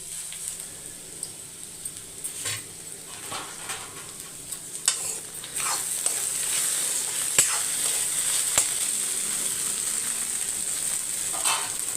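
Moringa leaves dry-roast in a kadai, giving a steady soft sizzle with occasional scraping and stirring clicks from a spoon against the pan, close and fairly quiet, with no talking.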